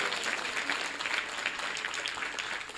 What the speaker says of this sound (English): big round of applause for Anandram Prabhu and also Manya's father Sandeep Prabhu